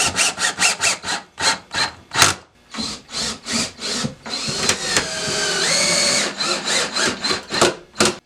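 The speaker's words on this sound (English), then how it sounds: "I grabbed some 3 1/4 inch screws, made sure the cabinet was level, and attached it to the studs." A drill drives long 3 1/4 inch screws through a workshop storage cabinet into the wall studs, in about a dozen loud, close bursts of whirring and grinding. One longer stretch of driving runs in the middle, with no talk.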